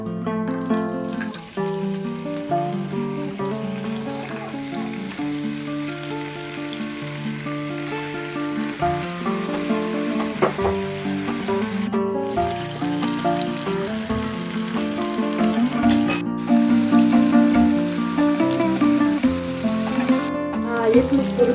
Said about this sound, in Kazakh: Келесі етті саламыз.